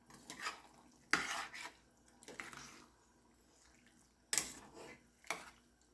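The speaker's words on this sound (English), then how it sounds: "Then we're just going to stir this around. Mix this together." A spoon stirs ranchero beans and seasoning in a pot, giving quiet scraping swishes and a few sharper clinks against the metal at irregular intervals.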